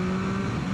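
A 2023 Yamaha MT-09 motorcycle engine holds a strong steady tone at high revs, a loud close sustained buzz with clear harmonics, no speech heard.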